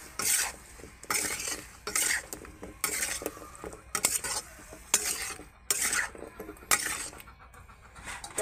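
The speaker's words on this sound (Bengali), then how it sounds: "এটাকে এইভাবে আমি অল্প ফ্রাই করে নেব" Bottle gourd with a little turmeric being stir-fried in a pan, a spatula scraping in repeated bursts of about a second each with soft sizzling between, close and moderately loud, no talking.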